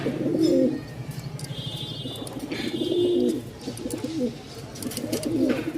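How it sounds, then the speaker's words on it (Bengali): Pigeons in a loft give several deep, rolling coos in repeated bursts, fairly close, with faint chirps and rustling between the calls and no talking. "আমাদের এরকম অনেক কবুতর আছে"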